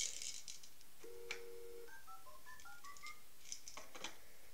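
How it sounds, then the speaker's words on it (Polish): Electronic beeping tones from a Fisher-Price educational toy table's telephone mode: one long steady tone, then a quick run of short stepped beeps rising and falling like phone dialing, clear and close over quiet background. "Telefon."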